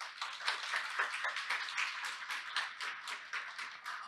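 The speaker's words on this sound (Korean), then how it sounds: "박수로 환영해 주시기 바랍니다." An audience at a panel discussion applauds, a steady mass of soft, fairly distant clapping that runs the whole time.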